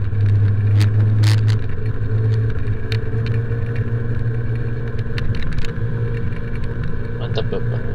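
A car's engine drones low and steady, pulling ahead through congested traffic in Palangka Raya, with the hum swelling slightly as it accelerates and scattered faint knocks over a continuous loud rumble.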